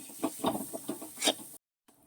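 Ground masala for beef fry sautéing in a pan, soft sizzling with rhythmic scrapes of stirring for about a second and a half, then near silence, close and fairly quiet.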